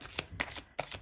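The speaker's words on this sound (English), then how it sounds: "I will give the deck a few more shuffles" A deck of tarot cards is shuffled by hand in three quick, crisp riffling bursts, close and quiet with no talking.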